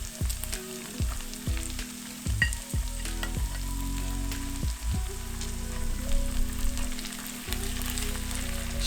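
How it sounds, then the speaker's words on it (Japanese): Garlic, ginger and canned tomato fry in a pan with a loud, steady sizzle, broken by repeated scraping stirs of a utensil that come every half second or so, with no talk. "しっかりと水分がなくなるまで炒めていきます。"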